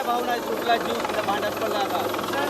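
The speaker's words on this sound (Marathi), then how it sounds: "हेलिकॉप्टर जे आहे ते दाखल झालेलं आहे" A rescue helicopter arriving over a flooded village after heavy rain, its steady rotor drone running through the whole moment beneath nearby voices and crowd noise.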